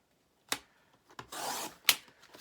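Scissors or a blade cut journal kit material in half: a sharp snip, then a rasping, sustained cut lasting about half a second, and another crisp snap, close and quiet with no talking.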